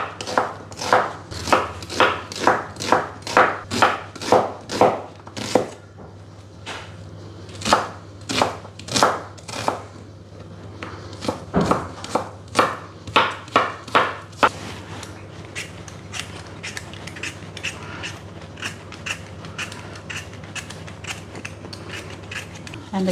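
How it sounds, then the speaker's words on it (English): A knife chops an onion into rough chunks on a board, a steady run of sharp, close knocks in quick bursts with short pauses, a faint hum underneath. "So we're just going to chunk our onion."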